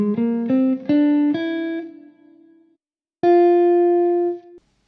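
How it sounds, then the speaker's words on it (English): Electric guitar plucking an E altered scale ascending in a blues setting: six clean notes step upward in quick succession, then a short gap before one last note rings out loud and sustained, alone with no talk. "Let's try maybe playing the E altered scale up and see how that sounds as well"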